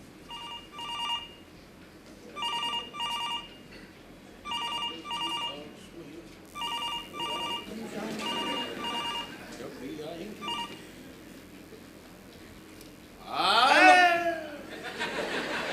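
Telephone ringing in a stage play, with a series of regular electronic ring bursts repeating at steady intervals, heard over murmur and a burst of audience laughter as actors talk.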